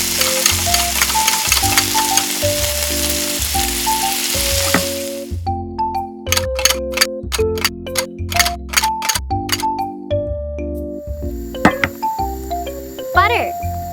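Onion and crab sticks frying in cooking oil for tiny croquettes, a steady loud sizzle for several seconds under a plinking melody, then the hiss stops and the tune carries on with light clicks.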